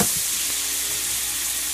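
Minced garlic sizzles steadily in hot garlic-flavored olive oil for shrimp scampi, a bright continuous crackle with a soft clink at the start.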